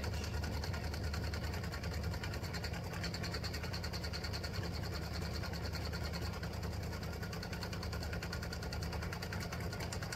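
A sewing machine lays down a running stitch on an embroidered tic tac toe board set, giving a steady, fairly quiet mechanical whir that runs without pause for the whole stretch.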